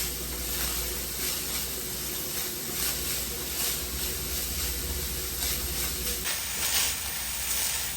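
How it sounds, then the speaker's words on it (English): Shallots cook in a pan, giving a loud, steady sizzle and hiss close by for the whole stretch, slightly shifting in tone near the end. "we're going to add our shallots. And we're going to cook them down until they become translucent."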